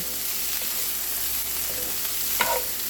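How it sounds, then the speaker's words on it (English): Peppers, onions and garlic frying in a pan, an even sizzling hiss with a couple of short stirring scrapes near the end, no speech. "we're going to cook the peppers, the onions, and the garlic until they become almost tender"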